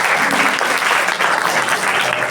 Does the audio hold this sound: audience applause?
yes